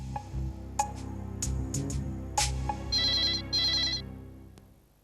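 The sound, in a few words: telephone ringing on outgoing call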